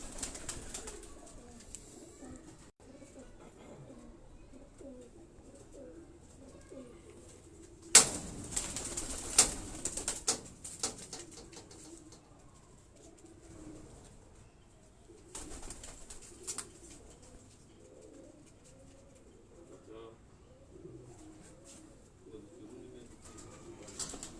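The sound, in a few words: green-necked Nag breed pigeons cooing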